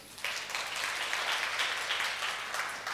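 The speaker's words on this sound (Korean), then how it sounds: "박수 한번 부탁드리겠습니다." A seminar audience at a film and TV VFX presentation breaks into applause, a dense and steady round of clapping that starts abruptly and holds evenly throughout.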